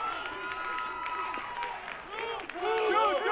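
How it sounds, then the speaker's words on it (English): A baseball crowd at a college game cheers and applauds after a run-scoring double, a dense, sustained roar with scattered shouts and voices that swells louder near the end. "the crowd went wild"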